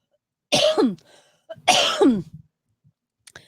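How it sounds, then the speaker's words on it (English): Two harsh throat-clearing bursts, close and fairly loud, separated by a short pause, with a quieter rasp trailing after the second. "Sorry, I'm clearing my throat."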